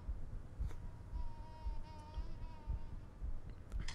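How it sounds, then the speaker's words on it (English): A fly buzzing in the video game Myst III: Exile, a thin wavering drone that rises and fades over a few seconds, faint against a quiet room with soft low thumps. "Oh, it's a fly. There's a fly in here somewhere."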